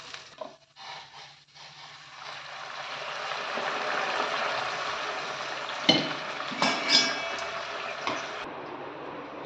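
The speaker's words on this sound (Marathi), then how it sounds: "आता हा तांदूळ धुतलेला होता ना तो टाकून देते आणि दोन तीन मिनटं चांगला परतून घेते" Washed rice sautéed in a pan with cardamom, clove and cinnamon for coconut rice, a steady close sizzle with scraping stirs, a few brighter clinks of the spoon against the pan near the end.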